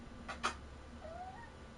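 A cat in Final Fantasy XIV gives a short, soft meow followed by a thin, rising mewling call, heard close against a quiet in-game ambience.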